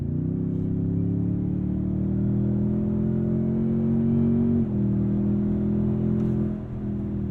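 A 2023 Toyota Tundra TRD Pro pickup engine drones steadily at low pitch, rising gradually in tone as it accelerates, then shifts gear briefly and continues humming; no voices.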